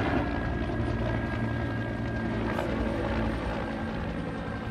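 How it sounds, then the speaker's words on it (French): A CH-47 Chinook twin-rotor troop transport helicopter flies near a military base by the sea, its steady rotor and turbine roar filling the whole stretch at constant loudness without pause. "Des hélicoptères de transport de troupes."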